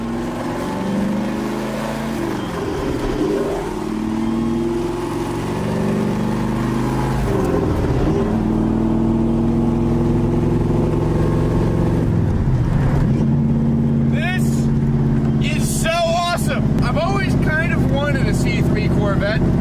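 A 1969 Corvette with a 427 big block V8 and 4-speed revs repeatedly, its deep rumbling idle broken by several throttle blips that rise and fall, louder bursts toward the end; a voice speaks over it.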